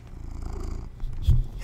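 A cat purrs right against a microphone, a low rumbling flutter close and loud, with a brief bump of nose rubbing near the end.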